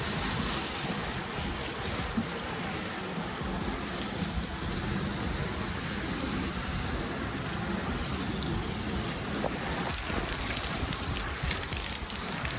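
A car finished with a hydrophobic coating is rinsed with a water spray. A dense, even hiss and patter of spraying water holds steadily throughout, fairly close, with no voices.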